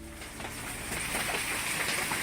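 Hail pelting down hard in a severe storm, a dense, steady clatter of stones striking surfaces that fills the whole stretch without pause and stays loud throughout.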